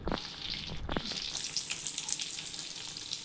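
Soaked almonds, cashews and raisins frying lightly in a pan for sweet rice, a soft continuous sizzle and crackle with a few sharper spits near the start, fairly quiet and close, no talk.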